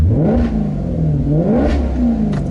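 A Maserati GranCabrio V8 in sport mode with the exhaust valves open, its engine rising and falling through revs in a deep, rich growl close by, swelling to a peak and easing off with a short burble near the end.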